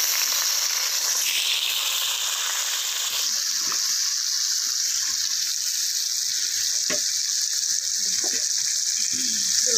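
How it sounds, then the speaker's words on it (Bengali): Chopped tomatoes hitting hot oil with a bay leaf for a cauliflower roast, a loud, steady sizzle and hiss that intensifies after a few seconds, with faint clinks of stirring and no talk. "কেটে রাখা টমেটোটা দিয়ে দিচ্ছি।"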